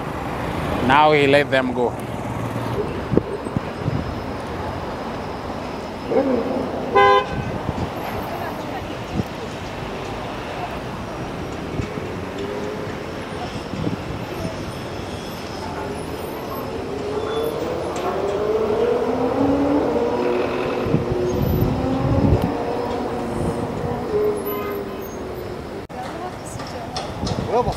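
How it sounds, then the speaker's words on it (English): Busy city traffic in Ulaanbaatar rumbles continuously for the whole stretch, with passing vehicles and an occasional horn-like tone, while someone talks over it at times. "this city is so, so busy, very busy city. And especially the traffic."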